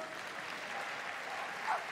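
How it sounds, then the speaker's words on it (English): Applause from a spectator crowd at the Crufts 2020 agility team small final, a distant, faint, even patter of clapping with no talk over it. "give them a big round of applause"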